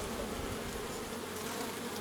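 Honeybees at a queen-rearing hive give a steady, dense buzz that holds close and even throughout, with no voices over it.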